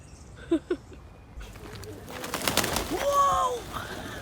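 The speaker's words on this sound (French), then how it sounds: "je suis entourée de pigeons" Pigeons cooing close by, a couple of short soft coos early on followed by louder warbling calls and fluttering, with faint background noise.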